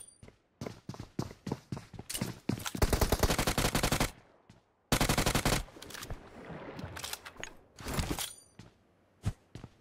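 Rapid gunfire bursts in a shooter video game, loud clattering automatic volleys in two long stretches between scattered single shots and thumps, with no talking.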